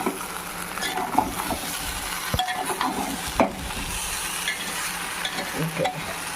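Potato fry with chili powder is stirred in a hot pan, a close, continuous sizzle broken by repeated scraping and clinking strokes of the spoon against the pan.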